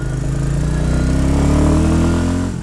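Royal Enfield Bullet 350 motorcycle on the move, a loud close thumping single-cylinder drone that holds steady with slight swells in pitch, wind noise over it, no talking.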